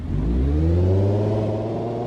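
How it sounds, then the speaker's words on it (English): A car drives itself in Car Jump Arena, its engine loud and close, revving with a smoothly rising then settling tone over two seconds, no voices. "The vehicle is going to drive itself."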